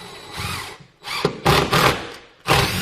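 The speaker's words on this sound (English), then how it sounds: "So I'm going to go ahead and run a screw in each one of these just to make darn sure we are definitely hitting the stud." Power drill driving screws into a wooden wall stud while a mini-split mounting bracket is installed, several loud bursts of whirring separated by short pauses, close to the microphone.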